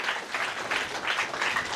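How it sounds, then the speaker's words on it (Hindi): Audience applause at a school event marking a world record rises in a steady, dense wash of clapping that runs throughout, moderately loud with no speech over it. "जोरदार ताली हो जाए प्लीज"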